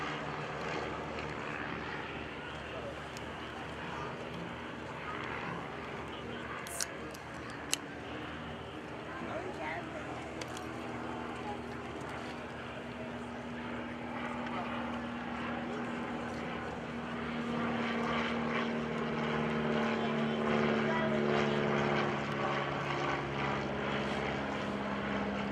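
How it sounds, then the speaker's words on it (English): A Fairchild PT-26 trainer aircraft with a Ranger engine passes at an airshow: a steady propeller drone that swells louder toward the end, heard from a distance with wind and crowd ambience, and a commentator talking over it. "There's Vaness flying by right now. Mr. Mark Vaness in his PT-26 aircraft"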